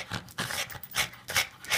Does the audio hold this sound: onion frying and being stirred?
no